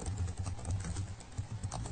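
Computer keyboard typing at a command prompt, a quick steady patter of close keystrokes lasting the whole stretch.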